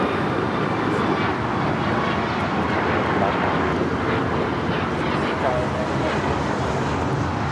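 A Cayman Airways Boeing 737 MAX 8 takes off from LAX with a loud, continuous jet roar that holds steady throughout, and a voice talks over it.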